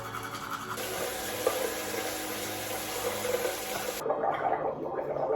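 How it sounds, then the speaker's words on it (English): A toothbrush rinsed under a running tap during a morning bathroom routine: a steady, close hiss of flowing water that changes tone near the end, with no talking. "make sure to wash the brush"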